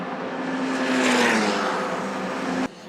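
A Formula Regional race car screams past at the Red Bull Ring, its high-revving engine swelling to a peak and then easing off before cutting away abruptly near the end, heard alone with no talk.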